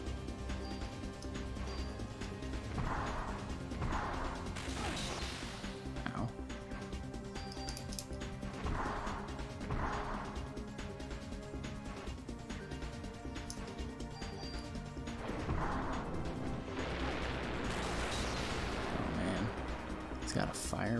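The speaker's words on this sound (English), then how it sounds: "Got a fire breath attack" Fire breath attack in the video game Parasite Eve, heard as several loud roaring, crackling bursts over steady game music, with a person talking throughout.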